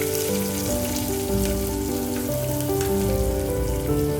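Onions, cumin and mustard seeds frying in hot oil in a pressure cooker, a steady dense sizzle and crackle throughout, heard under background music.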